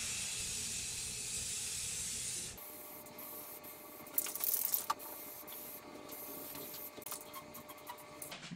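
Semi-gloss white spray paint is applied as a light coat to pipes, a short steady hiss of the aerosol followed by quieter rustling and handling sounds.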